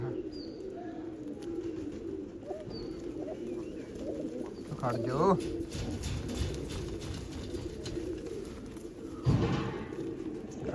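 Blue pigeons coo in low, soft, rolling calls, with a couple of louder coos standing out near the middle and end, over a steady background murmur.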